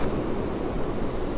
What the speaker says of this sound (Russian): Ветер поднялся еще сильнее